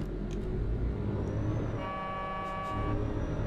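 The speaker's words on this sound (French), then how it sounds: "Je crois qu'ils sont en train de klaxonner le bouchon là-bas." Horns honk at a traffic jam on a dangerous mountain road, with one long sustained tone partway through and shorter toots, heard over a steady low rumble of a truck engine.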